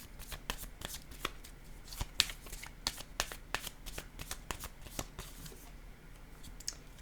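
Tarot cards are handled and laid down in a quiet stream of soft, irregular slaps and flicks close by.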